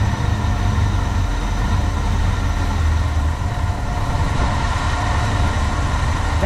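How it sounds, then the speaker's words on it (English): An older engine with a carburetor runs at a very low idle, a steady loud droning rumble that holds evenly throughout with no voices. "That's almost too low of an idle."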